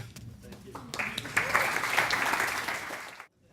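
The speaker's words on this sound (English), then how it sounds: "Can we have a great applause for her?" A crowd bursts into warm, sustained applause that swells and then cuts off abruptly.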